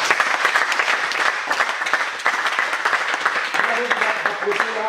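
Applause from the audience at a martial arts club's end-of-season ceremony, steady dense clapping for the club members that lasts the whole stretch, with voices and crowd murmur mixed in.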